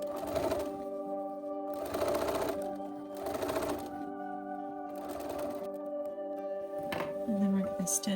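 A sewing machine stitches a sleeve seam on a Renaissance-style dress, running in several short bursts of rapid mechanical whirring separated by brief pauses, with a voice talking over it.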